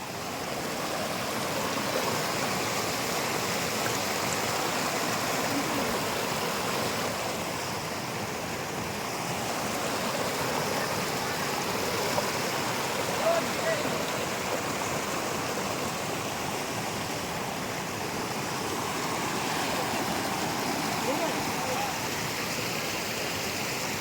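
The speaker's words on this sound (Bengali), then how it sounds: "তোমরা জাস্ট জলের কলরবটা একটু এনজয় করো।" Stream water flowing at Lal Jhamela Basti, a picnic spot in the Dooars: a steady broadband rush and burble of running water that holds evenly throughout, with no speech.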